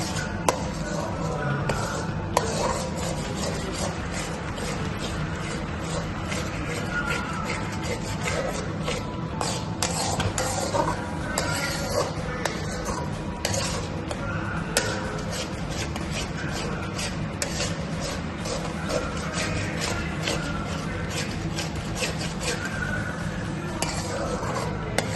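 Cooked rice being tipped into a pan for egg rice and stirred, with steady scraping and clinking of utensils against metal throughout, close and continuous.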